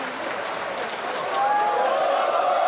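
A snooker crowd applauds Ronnie O'Sullivan's 5-2 match win into the last 32 against Bulcsu Revesz. The steady clapping fills the hall and swells louder about halfway through.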